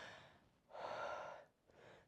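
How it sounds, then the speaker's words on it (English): A singer takes a long, deep breath in, close and soft, then a second shorter inhale follows after a brief pause. "Nice deep breath."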